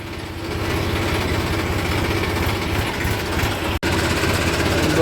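A tractor engine runs steadily while driving through farm fields in the evening, a loud continuous low drone with one abrupt brief dropout near the end.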